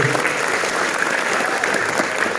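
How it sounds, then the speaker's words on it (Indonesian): An audience at an extracurricular inauguration talk show claps for a student: dense, even applause from a crowd that stays steady for the whole stretch with no speech over it. "Tepuk tangan dulu buat kamu"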